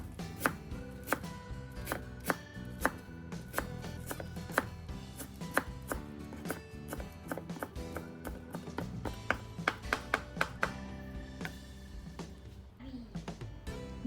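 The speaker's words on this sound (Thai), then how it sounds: "เราก็จะมาตัดเป็นท่อนๆ แบบนี้ค่ะ" Freshly washed garlic chive leaves are cut into short lengths with a knife on a board, giving a quick irregular run of crisp close chopping taps with no talking.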